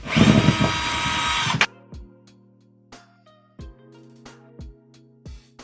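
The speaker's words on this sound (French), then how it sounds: "Il va falloir que je dévisse ce qu'il y a là pour enlever les petites planches." Power drill unscrewing furniture shelves in a home kitchen, with a loud close whirring burst at the start followed by a series of quieter thuds and knocks as boards are handled.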